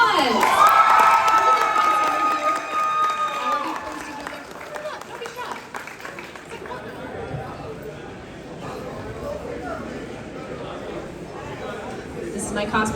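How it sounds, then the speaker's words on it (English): A crowd at an anime convention awards stage on state fair grounds cheers and claps loudly at first, then the noise settles into a busy murmur of voices and scattered clapping. "I want another round of applause."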